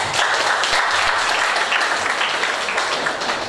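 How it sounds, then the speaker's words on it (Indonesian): Workshop participants in a school setting clap together, a dense continuous round of applause from a room full of people that holds steady for a few seconds without any voices on top. "Tepuk tangan."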